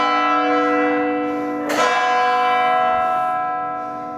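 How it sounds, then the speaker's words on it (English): A church bell in the Zadar bell tower in Croatia rings with a loud, close, rich tone, struck again partway through and left to hum and slowly fade. "The bells."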